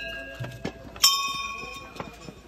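A single bright metallic temple bell strike at Tungnath Shiva temple rings out and lingers with a shimmering decay, amid footsteps and faint background voices.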